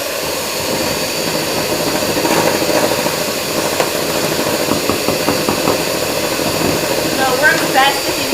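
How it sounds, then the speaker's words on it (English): An electric mixer running on high speed while whipping cream in a bowl, giving a steady loud whirring motor drone that holds throughout, close by, with a voice speaking faintly over it. "Keep on whipping"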